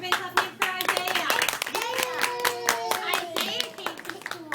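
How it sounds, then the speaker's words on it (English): A school class claps together for a child at an award ceremony, a run of sharp, fairly quick claps in a room while a voice and other talk carry on over them. "Everybody clap hands for Isaiah."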